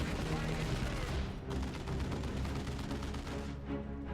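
Shooter boys fire volley after volley in a Dawn of War 2: Retribution 1v1 battle against Chaos units, a dense, continuous rattle of gunfire and thuds filling the whole clip.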